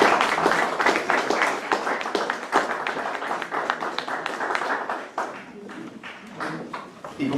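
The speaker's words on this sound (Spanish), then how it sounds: "Un aplauso para nuestro invitado." Audience applause for an invited guest at a lecture on Latin American hegemonies and dissent, a dense run of clapping for about five seconds before it thins into scattered claps.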